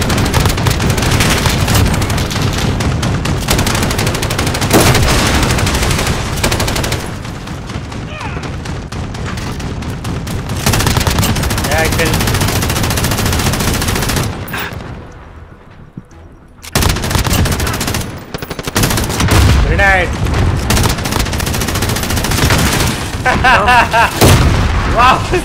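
Sustained automatic gunfire and explosions from Call of Duty Search and Destroy multiplayer, loud and dense for most of the span, with a brief near-silent gap midway, then renewed bursts of shooting; a player talks over the combat.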